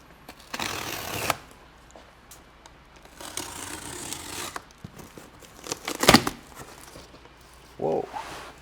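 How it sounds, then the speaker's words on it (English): A knife slicing open the tape on a large, heavy cardboard box holding a computer unit, with bursts of tearing and ripping scattered among quieter handling sounds and a sharp rip near the end. "the box number 2, heavier unit, bigger box, knife, and let's cut it open"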